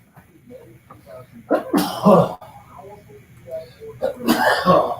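A person sneezes during a relaxed chat about food, with a sharp, breathy burst followed a few seconds later by another forceful outburst, and softer conversation murmuring between them.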